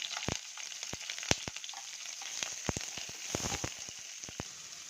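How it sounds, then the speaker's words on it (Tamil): Dried red chillies with whole onion and garlic frying in oil for a spicy chutney, a soft sizzle dotted with sharp irregular pops and crackles, close and quiet. "வரமிளகா போட்டுக்கிறோம். கொஞ்சம் நல்லா ஃப்ரை ஆகட்டும்."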